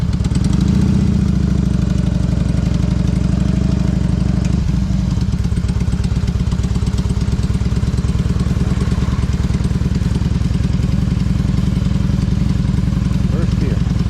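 A 20-year-old Harley motorcycle rumbles steadily while riding, its loud low engine drone continuous and close throughout, with a brief shift in tone early on.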